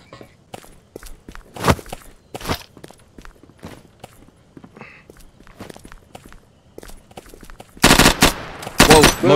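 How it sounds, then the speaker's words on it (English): In a VR battle royale video game, soft footsteps and thumps give way to loud bursts of rapid gunfire near the end. "Somebody just took shots at me."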